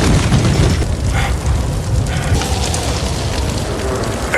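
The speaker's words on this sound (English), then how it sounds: "the gas canister of the flamethrower began to leak, causing an explosion" A leaking flamethrower gas canister explodes in a movie scene, heard as a loud, dense roaring blast that stays sustained and rumbling with fiery crackle over several seconds.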